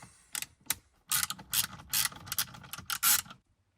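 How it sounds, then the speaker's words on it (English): Torx T10 screws being backed out of a 2009-2014 Ford F-150 steering column during clock spring replacement, a close series of rapid ratcheting clicks in short bursts that stop abruptly near the end, with no talk. "looks like 3 more Torx head screws that need to be removed"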